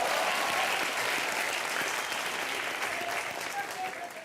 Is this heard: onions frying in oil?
no